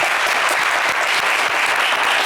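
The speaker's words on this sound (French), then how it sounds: "Allez, on peut vous applaudir également très fort." A studio audience of a televised game show claps loudly and steadily, a dense wash of applause with no talk over it.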